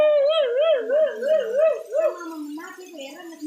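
A dog whines and howls in a wavering, sing-song pitch for about two seconds, then trails off into lower whimpering, close by at a forest waterfall picnic.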